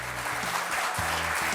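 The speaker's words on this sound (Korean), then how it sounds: "정준양 회장님께 다시 한번 큰 박수 부탁드립니다." An audience at an ICT forum keynote event applauds steadily, with a low hum or music tones sounding under the clapping.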